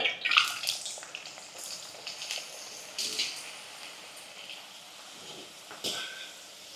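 Cauliflower and carrots sizzle and crackle in hot oil in a pan, a continuous bright frying hiss with occasional louder spits, close and alone.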